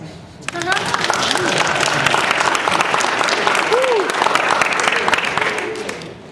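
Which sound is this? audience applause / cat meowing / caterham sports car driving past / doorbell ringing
audience applause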